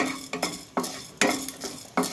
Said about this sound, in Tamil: 1 ஸ்பூன் கடலைப்பருப்பு ட்ரை ரோஸ்ட் பண்ணிக்கணும்.